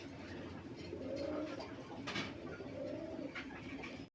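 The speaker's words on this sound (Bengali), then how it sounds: "এটা হচ্ছে মিলি রেসার কবুতর।" Mili racer and local Rasgolla pigeons coo in two clear, drawn-out phrases over a steady background hum, close by and with no speech.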